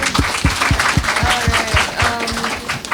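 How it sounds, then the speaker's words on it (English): Steady applause from a crowd at a poetry slam, sharp claps blending into a continuous patter that holds evenly throughout, with no voices breaking through. "Give them another round of applause, please."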